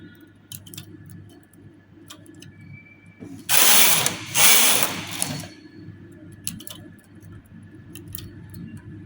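A knitting machine carriage runs across the needle bed for a couple of seconds in one loud swishing, rattling pass, amid quieter clicks and ticks before and after.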